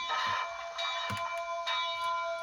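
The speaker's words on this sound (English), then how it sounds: "and then we have the bell." The sound-equipped HO scale Rapido Canadian Pacific Royal Hudson model locomotive rings its bell in a run of evenly spaced metallic dings over a faint electronic hum, with no talking.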